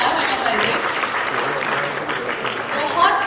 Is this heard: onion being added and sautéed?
no